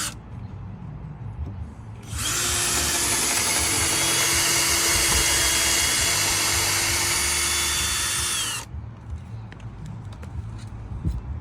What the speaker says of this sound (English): So we pre-drill it first.